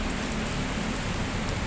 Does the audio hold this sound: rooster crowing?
no